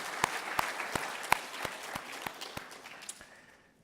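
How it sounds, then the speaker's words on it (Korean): Korean church congregation clapping together in a steady, regular beat to welcome visitors at a worship service, then fading out toward the end. "따뜻하게 우리 박수로 환영하도록 하겠습니다."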